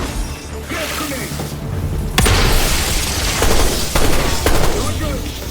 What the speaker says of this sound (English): Gas grenade!